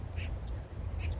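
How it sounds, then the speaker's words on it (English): An outdoor bird gives two short calls, each a brief high squawk with about a second between them, fairly faint over low wind rumble. "Bird."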